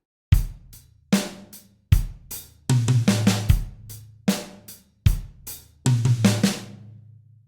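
Drum kit groove with a sixteenth-note figure spread over snare and toms, played in clear repeated bar-long phrases. Hits are loud and close with sharp attacks and short ringing decays, and no one speaks.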